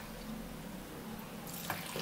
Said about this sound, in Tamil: இதில் நம்ம அது வேகிறதுக்கு ஒரு டம்ளர் தண்ணி